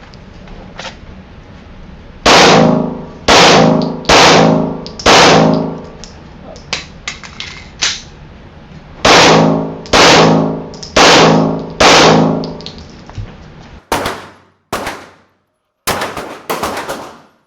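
Handgun shots ring out at a live-fire tactical event where shooters hit plastic plates, loud sharp cracks coming singly and in quick bursts of three or four, with brief pauses between strings.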